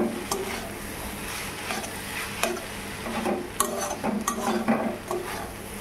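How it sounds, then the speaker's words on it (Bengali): A utensil stirs and scrapes fried, wilted leaves mixed with a spoonful of dried chilli in a pan, giving close repeated scraping clinks over a low steady sizzle, with no talking. "এখন একসঙ্গে ভালো করে মিশিয়ে নেব"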